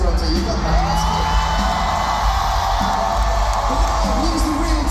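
A big crowd at a concert in Toronto screams, cheers and whoops continuously, a loud dense roar that fills the arena without pause.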